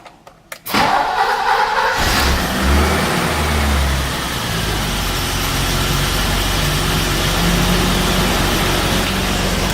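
A BMW E30 engine cranks and catches after a few clicks, then runs loud and close, revving and settling into a rough, steady idle, with no talk.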